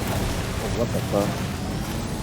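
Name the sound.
meteor impacts and explosions in video game Death Stranding 2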